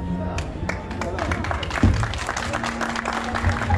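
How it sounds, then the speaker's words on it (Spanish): Guests at a birthday beer gathering applaud in a dense, continuous patter over steady crowd noise and chatter, with one louder thump near the middle. "Venga, los aplausos"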